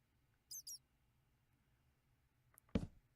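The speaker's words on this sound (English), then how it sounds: "Chirp, chirp." A bird in the Minecraft video game gives two quick, high chirps in a row, faint and in the distance, followed later by a soft thump.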